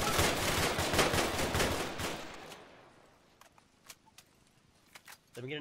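Rapid automatic gunfire in Arma 3 during a compound assault, a loud sustained burst for about two seconds, then scattered single shots and distant cracks in a quieter stretch, with a few voices.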